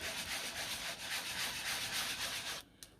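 A hand rubs a substance onto a surface in a crafting session, making steady, close, raspy strokes in a continuous rhythm that stop abruptly near the end, with no talking.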